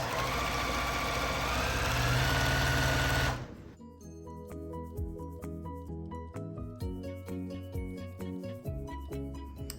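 A sewing machine runs for a few seconds sewing quilt binding, a steady loud motor whir that stops abruptly, followed by quieter scattered clicks and handling noises.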